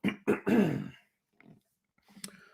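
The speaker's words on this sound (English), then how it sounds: "Let me clear my throat." A man clears his throat in a few rough, close bursts, followed by faint scattered rustles and a small grunt-like noise.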